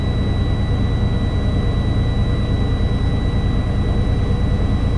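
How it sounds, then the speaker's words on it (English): A heavy truck's diesel engine holds a steady idle around 1100 RPM during an air brake pressure test, a loud, continuous low rumble with an even hiss and a faint steady whine over it, no talking. "I am holding my RPM at 1100, in between 11 and 1200."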